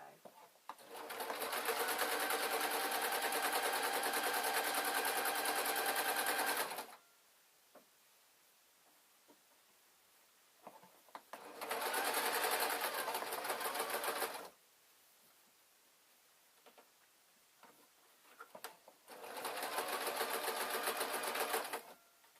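A sewing machine stitches a curved seam in soft dress fabric, whirring loudly in three sustained runs separated by quiet gaps, with a voice talking softly in between.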